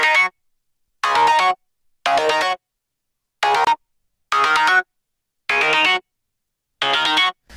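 Bright synth tone in short repeated bursts, about eight evenly spaced stabs with silence between them, each with a shifting filtered character as it is swept through frequencies, close and alone.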